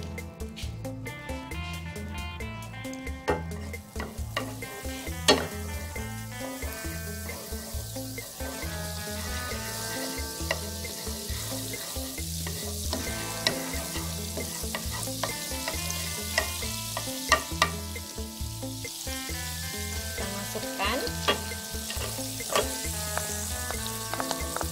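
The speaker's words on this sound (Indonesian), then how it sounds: "Saya menumisnya pakai margarin secukupnya ya, untuk menumis bawang putih sama bawang merahnya." Garlic and shallots sauté in margarine with a steady sizzle and occasional stirring, partly masked by louder rhythmic background music throughout.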